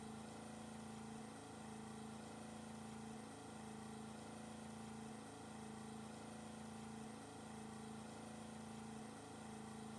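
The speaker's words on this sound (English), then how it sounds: "I can hear the loop of the engine." A boat engine in the fishing game Russian Fishing 4 drones steadily at an even pitch, a short segment repeating in a seamless loop with a faint periodic dip every couple of seconds.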